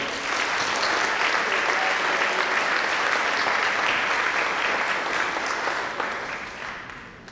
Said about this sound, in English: Please, a round of applause for Lily.